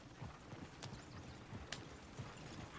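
Horse hooves clip-clop in a steady walking rhythm in the Red Dead Redemption 2 video game, quiet and somewhat distant over a broad background hiss, with a few sharper clicks mixed in.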